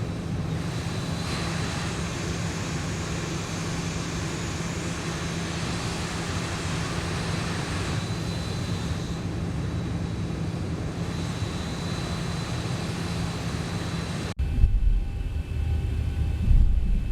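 A Boeing 737 jet taxis in the X-Plane 11 flight simulator, its engines making a steady, even roar with a low hum throughout, then a sharp shift to a rougher, louder rumble near the end.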